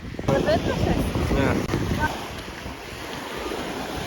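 Sea waves wash against the shore with a steady broadband rush under strong wind buffeting on the microphone, while people talk over it near the start.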